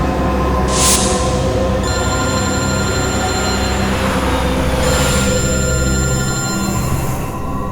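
A telephone rings steadily against a loud, continuous rumbling background, the tone sustained throughout with no speech.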